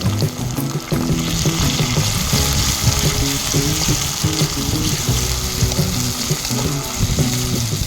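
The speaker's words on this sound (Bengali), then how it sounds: "সঙ্গে টমেটো কুচি দিয়ে দেবো, দিয়ে ভালো করে ফ্রাই করে নেব।" Onion, chili, garlic and ginger paste and chopped tomato fry together in a pan for a wild boar meat curry, with a continuous close sizzle and busy, rhythmic scraping and stirring strokes.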